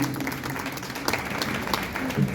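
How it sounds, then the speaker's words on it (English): An audience claps hands steadily at a community information session, a continuous patter of many hands with a few louder claps and some faint voices underneath. "You can clap your hands for yourselves for taking time to come here."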